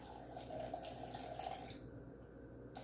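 Water poured from a container into a jar of sourdough starter in a kitchen, a steady close trickle running for about two seconds before cutting off, then a faint clink.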